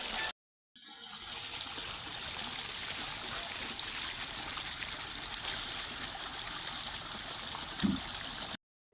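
Hot spring water streams and trickles steadily at close range, a continuous hissing flow with soft gurgles. A brief dropout comes early on.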